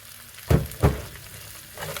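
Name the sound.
stirring frying chicken with fresh parsley in a pan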